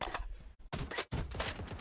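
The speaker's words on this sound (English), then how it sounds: "Headshot on TimTheTatman over on the A side as he challenged on a long" Rapid bursts of gunfire in a Valorant tournament match, dense and loud with short silent gaps between volleys, no talk over it.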